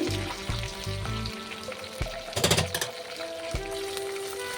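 Chana dal, dried red chillies, crushed garlic, curry leaves and onion frying in hot oil for palak pappu, a close sizzle with clattering stirring and scraping, including a louder rattling burst midway.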